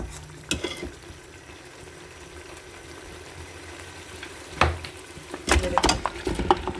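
Paaye (goat or cattle trotters) browning in masala in a pot, a soft steady sizzle with stirring scrapes and knocks that grow louder toward the end, with no talking.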